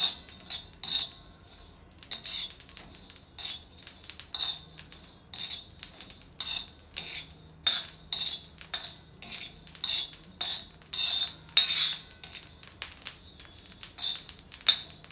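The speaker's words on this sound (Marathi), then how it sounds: "व्यवस्थित हलवून हलवून आपल्याला हे भाजून घ्यायचं आहे" A spatula repeatedly clinks and scrapes across a griddle as onion and coconut are stirred and roasted for a Konkani-style masala paste, a brisk, irregular rhythm of metallic taps and scrapes close up, with no talking.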